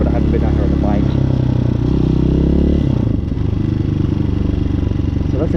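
Street-legal dirt bike ridden at night, its engine running loud and close throughout, a steady rumble with a brief dip in revs near the middle while someone talks over it.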